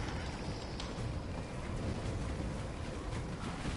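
A lightning sword's electric effect in Elder Scrolls Online crackles and sizzles continuously like static, dense and steady throughout, with no voices.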